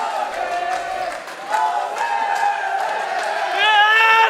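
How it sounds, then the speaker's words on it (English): Crowd at the IMMAF World Cup 2021 MMA event roars and cheers after the Irish fighter Taylor Quinn's tight armbar finish, a sustained loud swell of voices that surges again near the end. "And the crowd respond to the Irish fighter"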